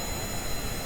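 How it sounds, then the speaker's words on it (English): Jet engines running in the Kerbal Space Program video game, a steady loud roar with a thin high whine held throughout, no voices. "I do have my jet engines though."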